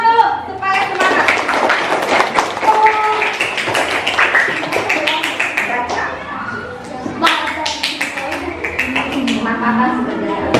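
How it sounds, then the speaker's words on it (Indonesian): Classroom students clap their hands in scattered, uneven bursts across the whole stretch, with children's voices and a teacher's speech mixed in throughout. "Yuk, kasih tepuk tangan dulu supaya semangat."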